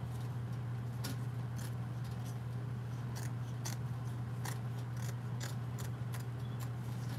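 Long scissors snip through embroidery thread and fabric beside a six-needle embroidery machine, with a series of sharp, close cuts spaced about half a second apart over a steady, loud mechanical hum.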